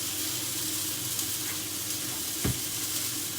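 Rump steak sizzles and fries in a pan with a steady, close crackle and a brief soft knock partway through; no one speaks.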